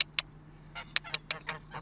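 Several short, nasal honks from domestic geese on an Austrian farm come in an irregular cluster over a low steady hum, fairly faint and somewhat distant.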